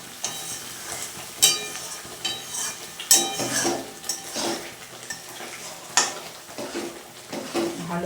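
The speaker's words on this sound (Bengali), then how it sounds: "ভালো করে মিশিয়ে নেব।" A spice masala stirred and frying in a pan gives a steady sizzle, with repeated close scrapes and clinks of a spoon against the metal, and no speech.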